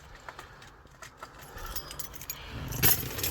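Two sets of keys for a 2000 Volkswagen Golf Mk3.5 Cabriolet jangle close by in repeated small metallic clinks, growing louder toward the end.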